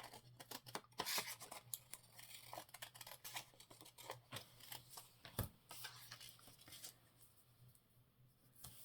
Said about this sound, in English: what I might do is just snip them off.